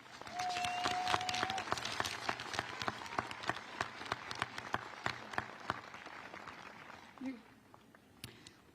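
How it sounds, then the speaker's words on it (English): Graduation audience clapping for associate's degree students at a high school ceremony, a fairly faint round of individual claps that thins into scattered, distinct hand claps, with a voice heard under it. "Please give them a round of applause."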